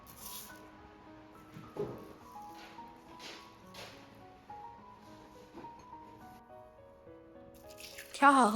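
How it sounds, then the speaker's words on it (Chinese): Mung beans rubbed and rinsed by hand in clean water to wash off dust and grit, giving soft wet squishes and small splashes, faint and close, with a louder swish of water at the end. "挑好後，加入清水反复搓洗，洗掉綠豆表面的灰塵和雜質"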